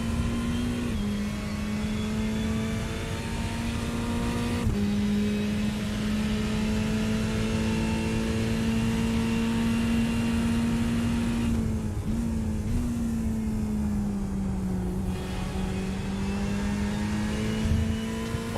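Ferrari race car engine heard on board during the Silverstone 24-hour race, a loud, continuous droning hum holding a steady pitch with small dips at gear changes, dense road and wind noise throughout.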